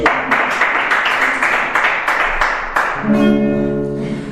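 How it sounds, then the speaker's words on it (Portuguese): Worshippers in a church clap for Jesus in a steady, even rhythm of sharp claps at a brisk beat, loud and close, before sustained musical tones take over near the end. "Salve palmas para Jesus"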